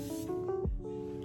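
A brief hiss from a Morphe Mini Continuous setting spray misted over a made-up face, a short burst at the start over soft background music.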